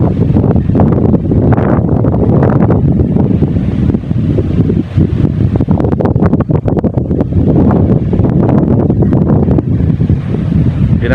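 Strong gusting wind in the aftermath of Typhoon Karding buffets the microphone with loud, rough rumbling bursts that surge and ease over several seconds, with no voices.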